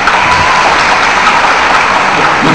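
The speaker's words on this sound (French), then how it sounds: "Je vous demande de bien vouloir applaudir" A crowd applauds a guest speaker being introduced, a loud, close, continuous burst of many hands clapping throughout.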